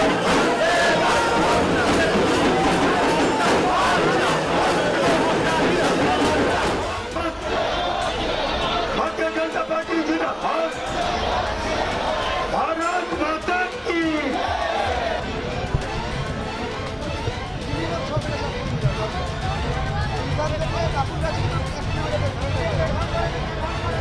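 A large, dense crowd packs an election rally, a continuous loud roar of many voices, chatter and cheering that fills the whole stretch, with some shouting rising above the din.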